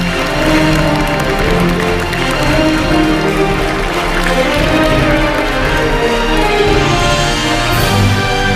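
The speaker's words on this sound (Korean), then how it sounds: "큰 박수 부탁드립니다" A large outdoor crowd applauds steadily to welcome President Moon Jae-in at a public event marking his government's 100th day, a dense continuous clatter of clapping with music playing underneath.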